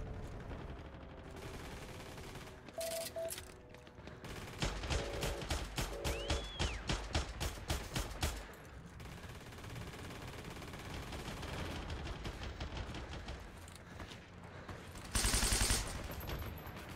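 Gunfire in the video game Heroes & Generals: bursts of automatic fire and single shots crack through the first half, then scattered distant shots over a steady battlefield rumble, with a loud blast near the end.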